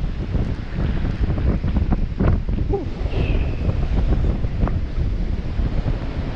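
Strong typhoon-driven wind gusts outdoors, a loud continuous roar with heavy low buffeting across the microphone and no pauses.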